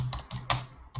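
Quiet keystrokes on a computer keyboard while Python code is typed, a handful of soft, irregular clicks close by with short pauses between them.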